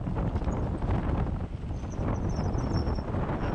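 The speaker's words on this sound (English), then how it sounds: "It's too windy for me to stop and take out the jacket." Strong wind on a mountain descent by bike buffets the microphone in a steady, loud roar of low rumble and hiss, with no speech.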